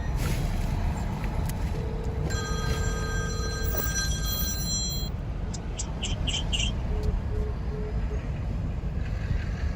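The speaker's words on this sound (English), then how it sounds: "You hear my phone?" A telephone rings with a repeated electronic tone for a few seconds, heard outdoors on a windy New York City street over constant wind and traffic rumble.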